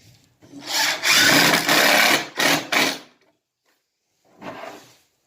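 Drill driving screws into pocket holes in wood for an outdoor sectional, a loud whirring burst of about two seconds broken by short stops, then a brief final spin after a silent gap.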